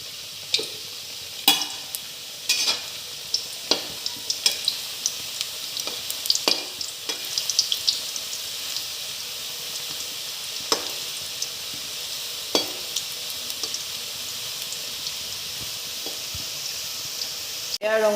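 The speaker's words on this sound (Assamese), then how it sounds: "ৰিফাইনত ভাজিলে মচমচীয়া হ'ব বস্তুটো।" Kata nimki, a savoury flour snack, frying in refined oil with a steady hiss and scattered sharp crackles and stirring knocks throughout, close and moderately loud.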